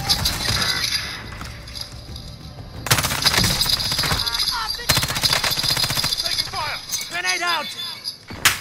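Precision airstrike hitting in the battle royale game Rebirth, heard as repeated loud crashing bursts and rapid gunfire-like rattles across the clip, with a busy mix of game effects and a radio-style voice alongside.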